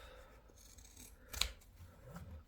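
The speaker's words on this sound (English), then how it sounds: "trim your seam round" Scissors snip once through a fabric seam allowance, trimming excess on a sewn sailor hat, a single short, crisp cut close by against quiet background.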